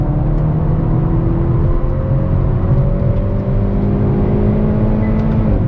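A 2022 Hyundai Veloster N with an 8-speed dual-clutch gearbox drives on a track, its engine droning loud and close with a steady, rising tone and a brief shift change, no voices.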